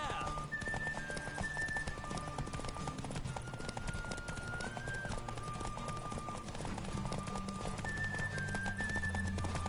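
A horse gallops in The Witcher 3 video game, a rapid, steady clip-clop of hooves running continuously under music.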